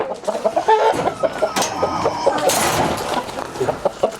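Roosters cluck in quick, repeated bursts close by, busy and overlapping, with some rustling and background noise.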